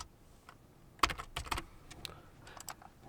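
Someone types a save file name on a computer keyboard, a short burst of crisp, close key clicks clustered in the middle, quiet otherwise and with no speech.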